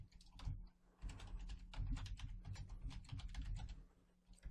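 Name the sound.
typing on a computer keyboard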